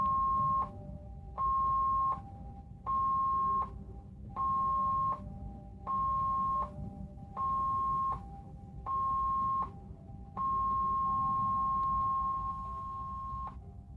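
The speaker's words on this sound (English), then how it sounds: "The general emergency alarm is your signal to report to your muster station." Seven short ship general emergency alarm tones evenly spaced, followed by one long sustained tone, heard over a steady low rumble of cruise ship machinery.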